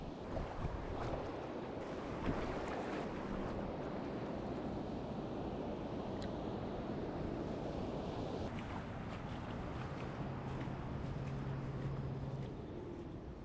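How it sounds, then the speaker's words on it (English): Rough surf with waves of six feet or more pounds a shallow beach in a steady, loud roar of breaking water, mixed with wind buffeting the microphone, and no voices throughout. "there's like 6-foot plus waves out there"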